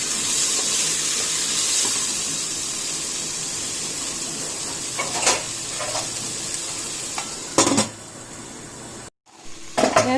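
Tomatoes sautéing in a pan for chicken curry in tomato and coconut milk gravy, a steady soft sizzle with occasional spoon scrapes and clatters, close and without talk.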